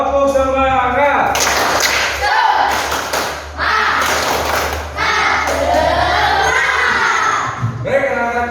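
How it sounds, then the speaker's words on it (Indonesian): A classroom of schoolchildren loudly chants and shouts the rhythmic 'tepuk semangat' clapping chant, with sharp claps and thumps ringing out over a busy, shouting crowd of young voices. "Sekali lagi. Tepuk semangat."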